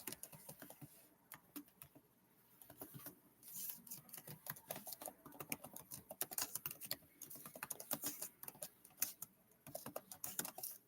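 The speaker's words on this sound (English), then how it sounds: "Here, let me type in the title first." Fast, uneven typing on a computer keyboard, a steady patter of close key clicks with brief pauses, alone without talk for about eleven seconds.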